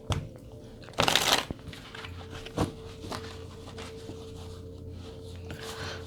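Tarot cards being shuffled during a card reading, a dense riffling burst around the one-second mark followed by a few quieter card slaps and soft handling noises over faint background hum.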